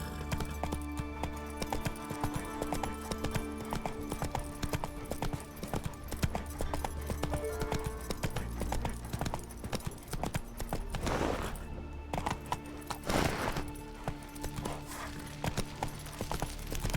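A horse in The Witcher 3 trots along with steady, rhythmic hoofbeat clip-clops under continuous game ambience, with a couple of brief whooshes partway through.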